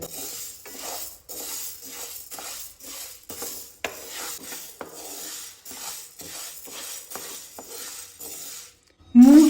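Moong beans being dry-roasted and stirred in a pan, with steady scraping and rattling from the utensil against the metal, repeated stirring strokes across the whole stretch and a louder knock near the end.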